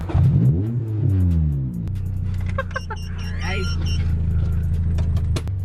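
A Honda Civic EG with a B18C Type R engine revs and rises in pitch at the start, then settles into a steady engine drone heard from inside the car, with people talking over it.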